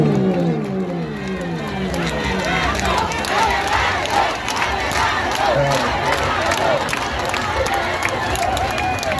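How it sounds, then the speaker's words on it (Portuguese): A large crowd at a political peace-march rally roars and chants continuously, a dense wall of shouting and cheering voices with a speaker's voice over it. "eu quero receber ele com a salva de palmas"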